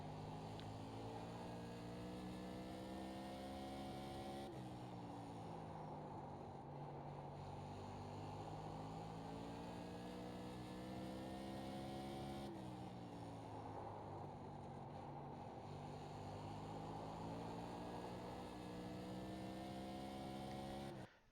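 Tour modified race car engine lapping New Smyrna in a racing game, heard from inside the car: a loud, steady high-revving drone that drops and climbs again through corners across two full laps.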